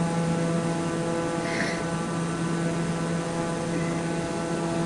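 In Microsoft Flight Simulator 2024 on PS5, a simulated aircraft's engine drones steadily and evenly throughout, with a brief faint swish partway through. No one speaks.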